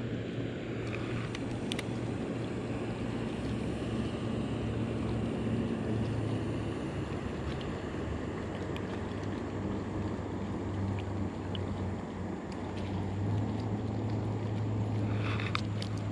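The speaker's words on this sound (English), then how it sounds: "I got ski boats, bass boats, everything just running out in front of me." Ski boats and bass boats running past on a lake, a continuous low engine drone from passing motors with wind and water wash, steady and moderately distant throughout.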